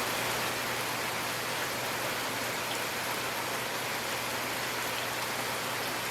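Steady evening rain shower pours down in a dense, continuous hiss, close and even from start to finish with no voices.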